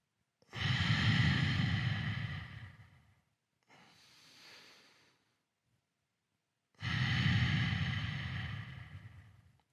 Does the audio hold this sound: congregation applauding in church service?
no